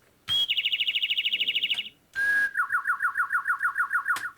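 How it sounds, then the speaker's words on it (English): Electronic bird-chirp sound effect played from a key on a BlackStar Carry-On 88-key folding piano: two bursts of rapid, warbling trills, the first higher-pitched and the second lower, clear and alone. "And the next one should be a bird."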